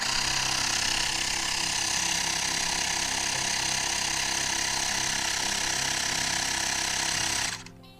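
An electric bicycle pump inflates a tyre toward 45 PSI with a loud, steady motor drone and rapid piston rattle running for about seven seconds before it cuts off abruptly.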